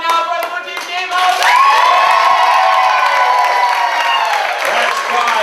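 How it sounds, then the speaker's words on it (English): Live audience at a Comedy Sportz improv show cheers and applauds loudly for the blue team, a dense wash of clapping, whoops and shouting that swells and holds steady throughout. "Applaud now for the blue team game of"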